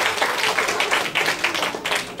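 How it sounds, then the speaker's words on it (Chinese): Audience applause at a weekend science class, breaking out as a drone settles after drifting in strong wind. The clapping is dense and steady, with rhythmic surges across the whole stretch. "掌声鼓励"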